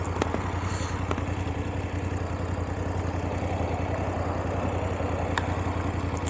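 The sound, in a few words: BMW 850 GS motorcycle engine riding in dynamic mode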